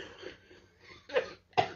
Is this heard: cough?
yes